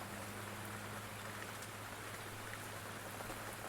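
Steady rain pours down in a dense, even hiss of drops striking surfaces, continuous and unbroken, with a low constant hum beneath and no voices.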